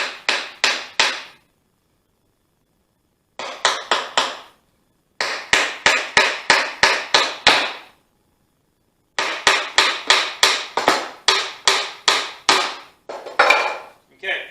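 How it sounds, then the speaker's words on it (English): A hammer drives nails into thin wood for a bird house, sharp close strikes in rapid bursts of three to eight blows separated by short pauses. "nailing this through this thin material is you run the risk of splitting the wood."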